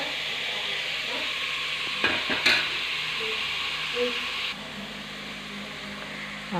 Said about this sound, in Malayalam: ഇത് ഞാൻ ചിക്കനല്ല മുട്ട ഇട്ടേക്ക് തക്കാളിയും സവാളയും പച്ചമുളകും ഇട്ടേക്ക് വാട്ടുക നമ്മൾ.